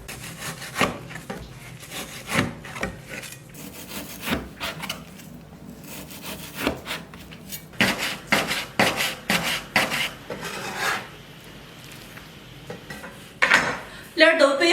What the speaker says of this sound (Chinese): 再把猪肉切成丝儿